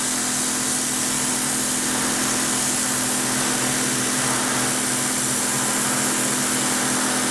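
Inertia sander with a worn 180-grit disc working a wooden surface, giving a steady, loud, close hissing whir with a constant motor hum and no breaks throughout.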